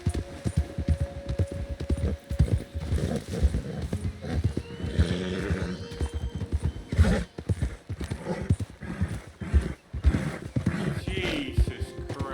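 A horse in the video game Red Dead Redemption 2 clip-clops along at a steady gait with repeated hoofbeats, an occasional whinny, and someone speaking over it at close range.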